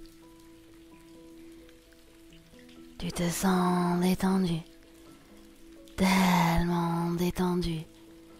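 Rain pours down in two loud, hissing bursts, each lasting a second or two, between quieter stretches where a calm voice speaks softly over a steady low hum.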